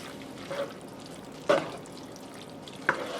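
Pasta and beef are stirred through a cream sauce in a pan over a low background hiss, with three distinct clanks of the spoon against the pan spaced a second or so apart, close by and with no voices.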